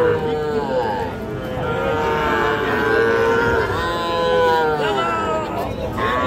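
A bull calf moos loudly and repeatedly at a busy cattle market, its drawn-out harmonic calls rising and falling over a steady background of crowd chatter and other livestock.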